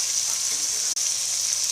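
Crushed ginger-garlic paste, a tablespoon, hits fried chicken in a hot pan, and a loud, even hiss of sizzling oil fills the moment, broken by one brief dip partway through.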